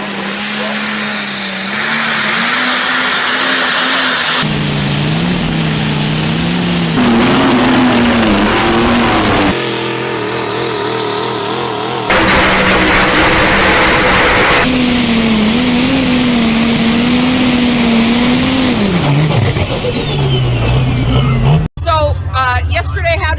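A John Deere tractor at a tractor pull, its engine roaring loud and sustained with rising and falling pitch as it works under load, while an announcer talks over the noise throughout.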